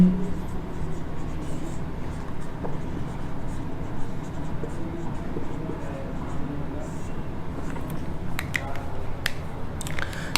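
A teacher writes on a board during a biology lesson on animal nutrition, giving a continuous scratchy scraping of marker or chalk over a steady room hum, with a few sharper taps toward the end.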